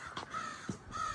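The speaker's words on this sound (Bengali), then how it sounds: "কাক ডাকছে আগে দেখো" A crow caws on a quiet residential street in wintry Canada, giving a few short, hoarse calls at moderate distance over faint outdoor ambience.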